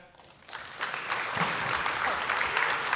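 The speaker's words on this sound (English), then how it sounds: "An applause for her." Applause for a speaker at a rural electrification workshop starts after a brief pause and swells into steady, full clapping from the audience, loud and continuous to the end.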